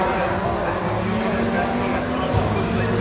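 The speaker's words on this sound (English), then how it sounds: "we're going to start off with some footage of a BTC race." BTCC touring cars racing at Silverstone, a steady, loud engine roar that fills the whole stretch without a break, with a rumbling drone underneath.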